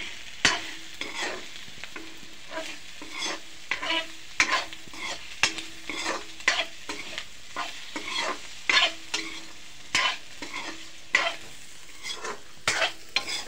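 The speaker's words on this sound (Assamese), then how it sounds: "গাহৰি মাংস ভাজি ল'লোঁ।" Pork meat frying in a pan, with a steady sizzle broken by frequent sharp scrapes and clacks of a spatula stirring in an irregular rhythm, close and alone.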